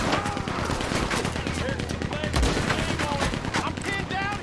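Rapid gunfire in Red Dead Redemption 2, a dense continuous volley of overlapping shots with chaotic battle noise throughout, loud and close.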